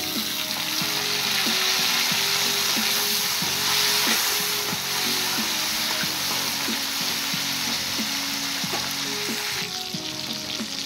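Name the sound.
chopped tomatoes frying with lightly fried onions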